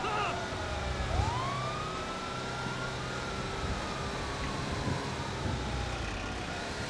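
Police car sirens wail in the video game GTA V, a long rising and falling tone running steadily across the whole stretch over a dense engine and traffic rumble, with no voices.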